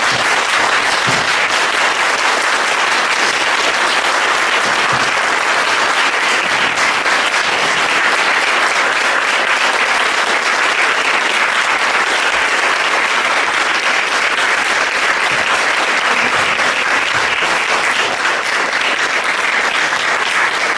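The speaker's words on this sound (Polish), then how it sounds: "Wielkie brawa dla Dana." An audience at a talk in Sobótka, Poland, applauds Dan Winter with loud, continuous clapping that holds evenly for about twenty seconds, with no voices standing out.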